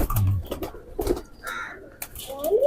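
Domestic pigeons kept by a fancier coo and call close by in short repeated bursts, with a faint voice in the background.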